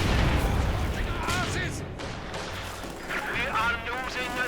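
Battle noise from the Company of Heroes 2 strategy game, with booming artillery, gunfire and a grenade blast against an MG42 position, rumbling continuously beneath a caster's steady commentary.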